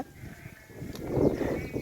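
Sheep bleating while grazing with a wandering herd in open country, a close, drawn-out bleat rising in the second half over soft background noise, with no clear speech.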